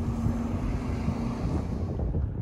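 Wind blows outdoors beside a frozen bay at a shipyard, a loud, steady rumble of gusts buffeting the microphone close up, with no talking.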